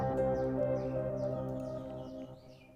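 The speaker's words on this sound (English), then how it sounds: "use the crystallizer, which gives it a reverse delay kind of thing" Crystallizer reverse-delay effect from an Effect Rack plugin applied to a sampled sound, giving sustained harmonic tones with shimmering, swept reversed echoes above, steady and then slowly fading over about three seconds.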